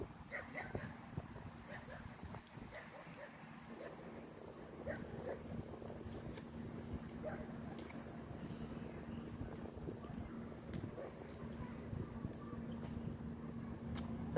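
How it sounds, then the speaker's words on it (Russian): Steady outdoor wind rushes and buffets the microphone in a continuous low roar, with faint voices talking underneath. "Ветер."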